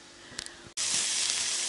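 Frozen vegetables and tomato hit a hot frying pan in a home kitchen. After some faint clatter, a sudden loud, steady sizzle bursts up and keeps hissing.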